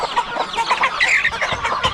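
Native chickens cluck and chatter close by in an overlapping, irregular stream of short, nasal calls, fairly loud and without any human talk.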